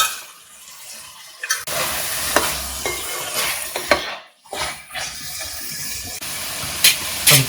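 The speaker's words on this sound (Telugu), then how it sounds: "దీన్ని పచ్చెనపప్పు యాడ్ చేసుకుని చక్కగా ఒకసారి కలిపేసుకుని" Soaked chana dal stirred into mutton curry frying in a pot: a steady loud sizzle and hiss with spoon scrapes and knocks against the pan, close, with a brief lull midway.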